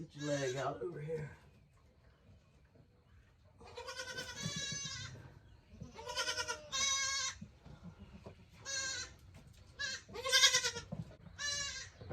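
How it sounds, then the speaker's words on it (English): A baby goat kid with a problem bleats again and again in loud, wavering cries, with quiet pauses between them. A human voice is heard faintly in the background. "I'm sure you can hear that other baby in the background yelling."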